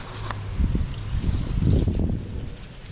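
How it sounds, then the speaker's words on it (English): Gusty outdoor wind rumbles and buffets the microphone during outdoor pizza making, swelling loudest in the middle and then easing off, with no voices. "No! The wind!"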